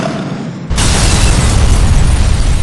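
Weapons fire and explosions in the GTA 4 video game erupt suddenly into a loud, dense, continuous barrage of blasts that fills the rest of the stretch without letup.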